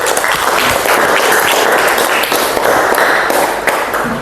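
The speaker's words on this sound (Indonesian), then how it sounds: "Oke, berikan aplaus." Classroom applause, a dense, loud burst of many hands clapping together that keeps going steadily throughout.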